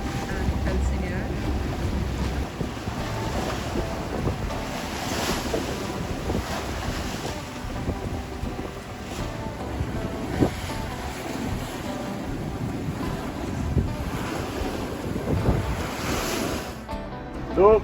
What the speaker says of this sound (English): So we're going straight against the wind and against the current.